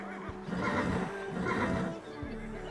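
Horses whinny in two long, loud neighs close by, with a faint clip-clop of hooves in between, outdoors on a winter trip in Iceland.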